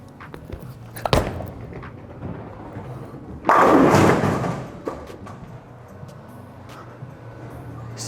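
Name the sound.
bowling ball thrown down the lane hitting pins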